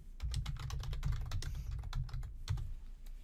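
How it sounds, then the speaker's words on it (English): Rapid, steady keystrokes on a computer keyboard as a course name is typed into a search field, close and fairly loud with no talking. "so I'm just going to type it in."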